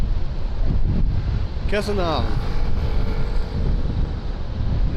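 Strong wind buffeting an action camera's microphone on a road trip, a steady loud roar with low rumble throughout, and a brief voice speaking in the middle.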